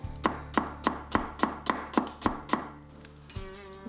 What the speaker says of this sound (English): So I'm going to peel a shallot, slice it, and then pop it into that pickle juice.